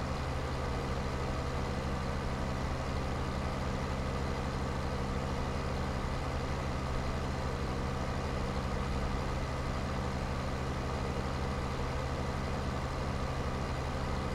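An orange tractor in Farming Simulator 15 drives its course toward a field, its low engine droning at a steady pitch with no talking.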